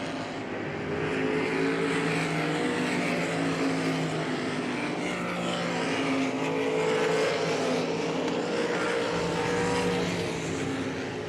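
Sprint cars race at Hagerstown Speedway, several engines blending into one loud, continuous, high-revving roar that holds steady throughout, with no talk.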